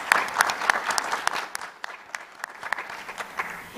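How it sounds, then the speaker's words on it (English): A small audience at a panel discussion gives scattered, uneven applause, with individual claps standing out and slowly thinning toward the end. "if we can give them a round of applause"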